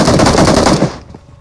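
Rapid automatic gunfire in the mobile battle royale game PUBG Mobile, a loud, dense burst of shots lasting about a second before cutting off into a faint tail.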